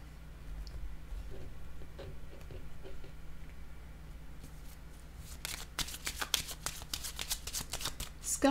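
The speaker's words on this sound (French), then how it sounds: "Je vais déposer une autre carte." Tarot cards shuffled with a run of quick crisp riffles and flicks partway through, following a quieter stretch of soft handling, cards set down close by.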